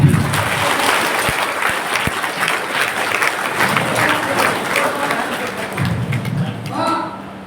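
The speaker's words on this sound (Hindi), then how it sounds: "कोई भी जोरदार ताली।" Loud, continuous applause from a crowd at a marketing company meeting in Kukshi, Madhya Pradesh, with a few sharp taps early on, sustained for several seconds before tapering at the end.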